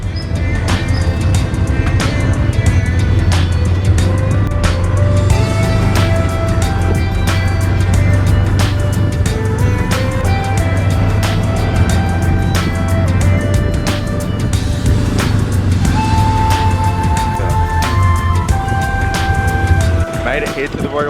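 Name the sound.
tuk-tuk ride through city traffic in Cambodia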